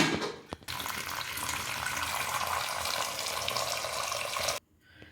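Water runs steadily into a pan of mushrooms for soaking, a continuous close splashing pour lasting several seconds before cutting off abruptly.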